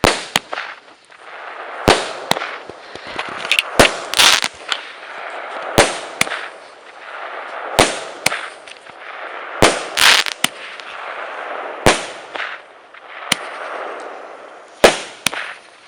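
Fireworks set off outdoors, a loud series of sharp bangs and crackling bursts at irregular intervals, some in quick clusters, with fizzing between the blasts.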